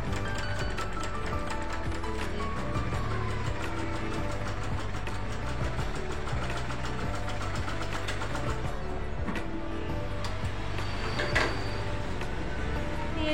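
A hand-cranked sewing machine stitches fabric slowly along marked lines, producing a continuous rhythmic mechanical clatter of needle and gears, close up.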